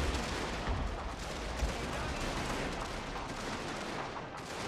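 Musket infantry line firing volleys in a 19th-century Prussian strategy game battle, a dense continuous crackle of gunfire with heavy low rumble running throughout, loud and sustained with no talk.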